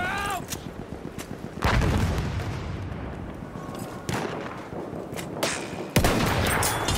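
Battlefield 1 combat with a grenade blast and bursts of gunfire: several sharp shots and booms at irregular intervals over a steady din of battle, with brief distant crackle between the louder reports.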